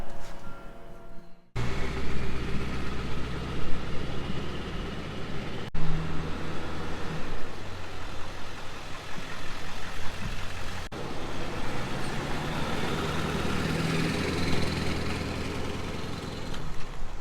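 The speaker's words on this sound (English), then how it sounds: "We got the cruise set at 70. Don't hardly even know that thing's back there. This truck tows it just fine." A pickup truck towing a Cadillac cruises at highway speed, its steady engine drone and road rumble continuous and fairly loud throughout, with no talking.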